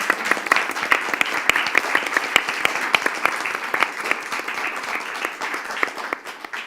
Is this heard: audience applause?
yes